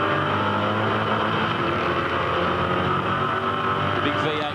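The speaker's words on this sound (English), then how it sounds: "The big V8 working through Corporate Hill, chasing the 6-cylinder BMW M3" A big V8 race car engine works hard on track at Eastern Creek, climbing Corporate Hill while chasing a 6-cylinder BMW M3, a loud continuous onboard roar with strong harmonics throughout.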